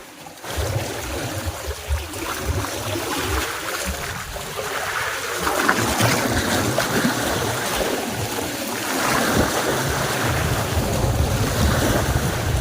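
Ocean waves wash and crash steadily against the shore, with constant wind buffeting the microphone throughout.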